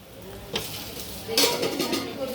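Chapati frying in oil in a pan at home, soft sizzling with a couple of sharp spatula scrapes and clinks against the pan, close and brief.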